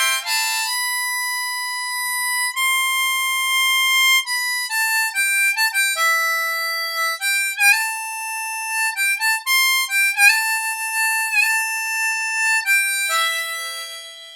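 Solo harmonica plays the third solo of a song, a run of held, bright reedy notes shifting between pitches in a steady rhythm, close and unaccompanied.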